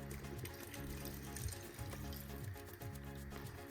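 A cup of rinse water from birria cooking is poured into a container, a faint, continuous liquid trickle and splash under soft kitchen noise.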